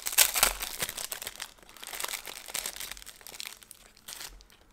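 Crinkling and rustling of a plastic packet being opened, with transparent stickers and papers shuffled inside; close, uneven crackles that are loudest at the start and then continue more softly. No one speaks.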